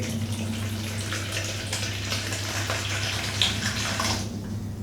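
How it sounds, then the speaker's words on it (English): Water runs steadily from a household tap with low water pressure, giving a continuous close wash of flow with a low hum underneath and no talk. "I'm going to show you the current water flow."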